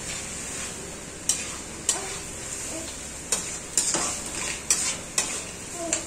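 Spinach cooked with cream and fried vegetables being stir-fried in a pan for Diwani Handi: a steady close sizzle with repeated sharp scrapes and clacks of the spoon against the pan, and no talking.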